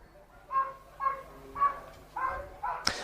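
A large agility dog barks repeatedly on an indoor competition course, five sharp evenly spaced barks at moderate distance, ending with a brief clattering thud.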